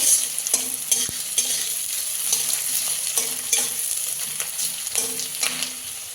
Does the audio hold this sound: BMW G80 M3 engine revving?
no